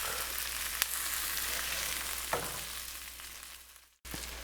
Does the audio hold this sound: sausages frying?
yes